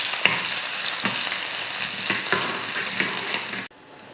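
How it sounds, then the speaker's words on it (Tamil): Steady close sizzling of chopped shallots frying in hot oil, with occasional stirring clicks, before cutting off suddenly near the end. "7-8 சின்ன வெங்காயத்தை இந்த மாதிரி சின்னதாக வெட்டி தாளிக்கிறதுக்கு சேர்த்துருக்கேன்"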